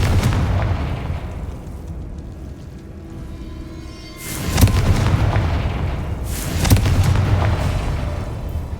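Bombarda and Confringo explosion spells go off in the video game Hogwarts Legacy, two heavy booms a couple of seconds apart rising over a rumbling, crackling ambient background.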